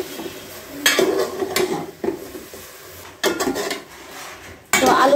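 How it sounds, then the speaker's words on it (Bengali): New potatoes stirred in a cooking pan with a utensil, making several loud, close bursts of scraping and clattering against the metal, separated by short pauses, with no voices. "আলু দেওয়ার পরে এটা ভালো করে একটু মিশিয়ে নিচ্ছি মানে একটু ভালো করে নেড়ে চেড়ে দিচ্ছি"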